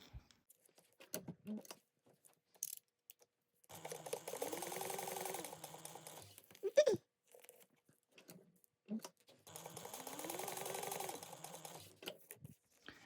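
A sewing machine stitches a fabric crossbody bag in two sustained runs, each a few seconds long, with quiet handling noises and pauses between them.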